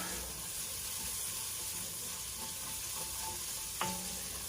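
Salt pork frying in a pan makes a steady close sizzle and crackle with faint stirring, and one sharp clink near the end.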